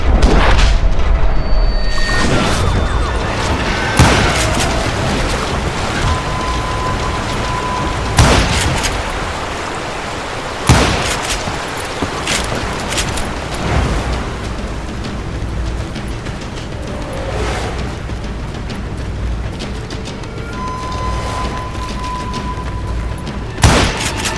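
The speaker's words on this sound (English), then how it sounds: "now that the shooting had started" Gunfire and explosions in a Call of Juarez: Gunslinger shootout, loud booming blasts and volleys of shots recurring over a constant roaring din.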